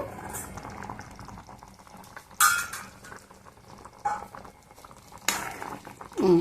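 Watery Bombay chutney, a thin gram-flour sauce, boils in a pan on the stove with a steady bubbling patter and occasional louder pops and clinks close by, no talking.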